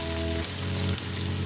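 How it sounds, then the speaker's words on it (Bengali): Chopped onion frying in a pan with bay leaf and whole spices, a steady close sizzle and crackle with a low hum underneath, continuous and unbroken. "দেখুন পেঁয়াজটা কেমন ভাজা ভাজা হয়ে যাচ্ছে"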